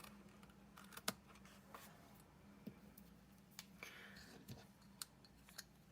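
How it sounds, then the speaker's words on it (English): Ribbon scissors snipping soft embroidered ribbon, a few quiet, sharp, separate clicks scattered over a faint background. "Here's my ribbon scissors again, cutting"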